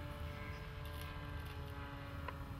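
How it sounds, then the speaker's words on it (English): Senior Telemaster radio-controlled model airplane on its first test flight, flying without its payload; a steady engine drone with tonal harmonics hums continuously at moderate distance throughout. "This is the very first flight of Dave Hatch's Senior Telemaster aircraft"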